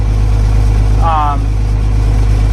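An International Harvester 1586 tractor engine idling loud and close after a cold start, a steady low rumble with a continuous throb, while a voice talks over it.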